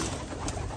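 A grizzle pigeon coos in a breeding loft, a steady low throaty cooing heard up close and fairly loud, with no talk.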